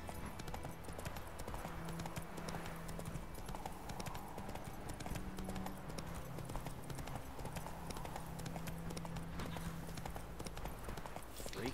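A horse's hooves clip-clop at a steady trot in The Witcher 3 video game, a continuous rhythmic patter over a dense background of game ambience.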